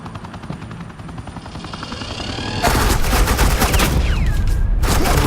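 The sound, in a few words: suppressing gunfire from Batman: The Enemy Within video game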